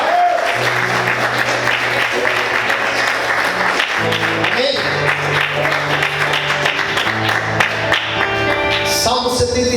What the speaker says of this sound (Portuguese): Vamos glorificar e aplaudir Jesus bem forte.